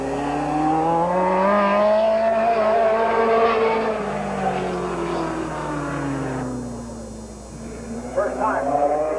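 Late model race cars whine around Midvale Speedway in 1988, engine pitch rising and falling as they pass, with a commentator's voice over the roar.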